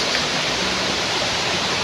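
Dampalit Falls, a waterfall, roars as a constant broadband rush of falling water, loud and close with no variation and no speech.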